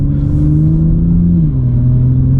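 A 2020 Toyota Supra engine revs in sport mode, a loud steady low drone with a pitch that holds then dips slightly, close and continuous with no talk.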